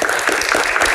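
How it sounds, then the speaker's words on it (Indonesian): Applause from a studio audience of university students in Jakarta at a Q&A show, dense steady clapping filling the whole moment without pause. "Tepuk tangan untuk teman-teman mahasiswa yang ada di Jakarta"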